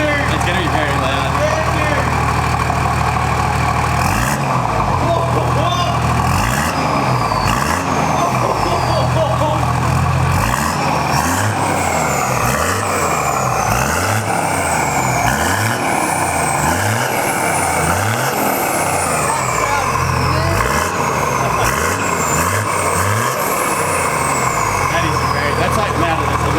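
Straight-piped 1HDT LandCruiser 4WD diesel with a 3-inch exhaust, revving in loud repeated bursts over a deep rumbling idle, with people talking nearby throughout.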